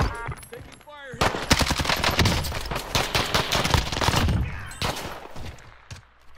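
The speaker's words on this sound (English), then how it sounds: "Taking fire here." Rapid bursts of automatic gunfire in the Call of Duty Warzone video game, loud and dense, with sustained volleys and sharp single shots, under brief talk.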